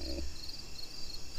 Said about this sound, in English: you can hear the crickets chirping